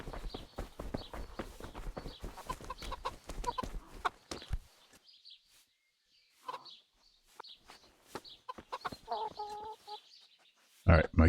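Chickens cluck in the video game Kingdom Come Deliverance, short bursts scattered among footsteps and other game sounds, with a busy stretch at first and sparser calls later.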